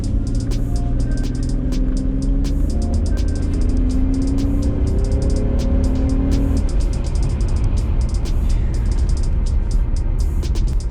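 A stock Toyota Aristo with a 2JZ engine drives along, its engine droning steadily and loudly with rising and falling tones, mixed with road and wind noise throughout.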